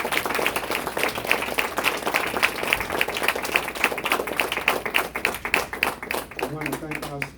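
Audience applause at a Nation of Islam gathering, steady rhythmic clapping from a crowd sustained for several seconds, with a voice speaking over it toward the end.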